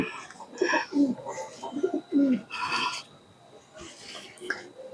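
An Andra pigeon coos close by in a repeated low rolling pattern, several short phrases in the first half, with a person talking nearby and quieter background afterward.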